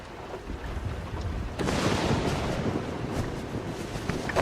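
A violent thunderstorm on a haunted island, heavy rain and wind roaring steadily with a rumbling thunder swell breaking in partway through, dense and close, no voices.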